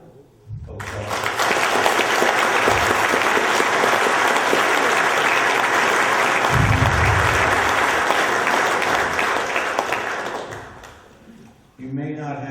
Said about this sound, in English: I'd like to have another round of applause.